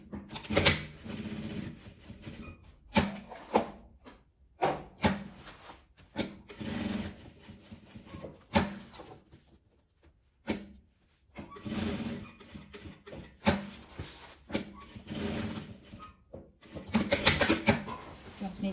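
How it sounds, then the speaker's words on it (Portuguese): A sewing machine stitches around a fabric label in repeated short bursts of rapid needle chatter separated by brief pauses, close and moderately loud. "Vou costurar em volta dela."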